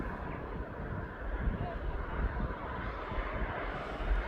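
A fixed-wing aircraft banks through a turn north of East Midlands Airport, its engine roar a steady broadband rumble at moderate distance, with wind buffeting the microphone and a voice talking over it.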